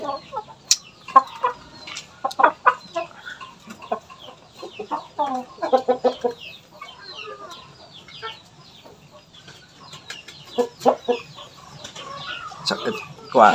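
Shamo and Aseel fighting game chickens clucking and squawking in bursts, with short wing flaps now and then, moderately close, and no one speaking.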